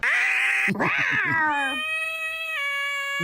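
A cat meows loudly and up close, a drawn-out, wavering cry followed by a second, steadier one, heard alone with no talking.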